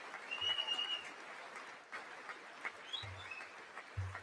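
Scattered applause from the chamber during the State of the Union address, thin and distant, rising and falling in loose waves with a few louder bursts near the end.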